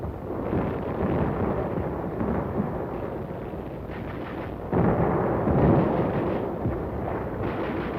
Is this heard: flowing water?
no